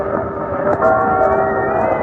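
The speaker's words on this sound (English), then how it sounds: "I remember being awakened by the tower clock chiming." A tower clock chimes midnight as a radio drama effect, sounding as a sustained, ringing bell tone with a steady hum that fills the short span, moderately loud, with no talking over it.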